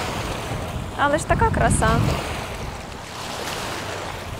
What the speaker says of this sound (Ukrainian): Тому що тут такі хвилі, камінці.